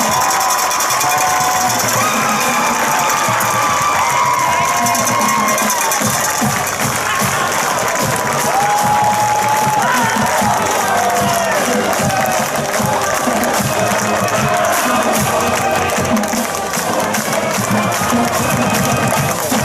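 Crowd applause and cheering at a Colgan vs Forest Park high school game for the Forest Park High School marching band, a dense steady roar of clapping that holds loud for the whole stretch, with faint voices mixed in.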